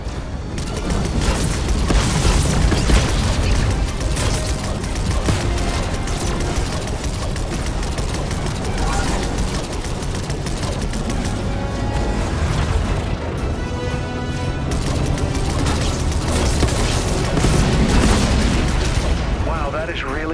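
A bomb vehicle blowing up in Fortnite, loud heavy booms and crashing debris that rumble on almost without pause, with a voice talking over the din.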